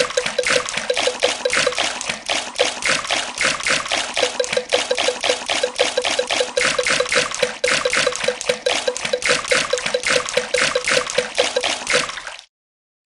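Continuous splashing water from a swimming race in a Peppa Pig children's video game, a dense rapid patter of splashes at steady loudness for about twelve seconds before cutting off abruptly.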